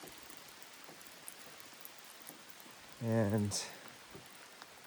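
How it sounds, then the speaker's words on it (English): Rain falls steadily on a tarp and the roofing of a small wooden 8x6 shed built as an addition to a tent, making a soft, even hiss throughout, with one brief word spoken partway through. "and then the rain comes"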